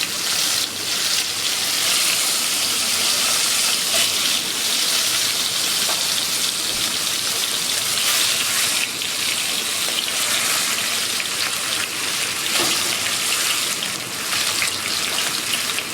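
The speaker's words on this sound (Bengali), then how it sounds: "এবার আমি মাছগুলো একটা একটা করে ভেজে নেব।" Singi fish fry in hot mustard oil in a kadai, producing a loud, dense, continuous crackling sizzle like heavy rain that holds steady from start to finish with no talking.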